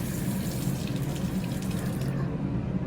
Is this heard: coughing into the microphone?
no